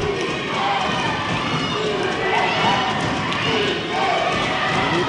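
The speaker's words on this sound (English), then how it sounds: "Geneva crowd yelling defense." Spectators at a TAPPS 5A state semifinal girls' high school basketball game between Second Baptist and Boerne Geneva yell and chant in a gym, a loud, steady wall of crowd noise with shouted voices rising and falling throughout.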